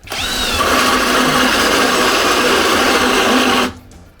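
Grand DA 20-2 BL brushless cordless drill driving a hole saw, a loud steady motor whine with grinding under load that runs for several seconds close by before stopping abruptly.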